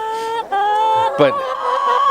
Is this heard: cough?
no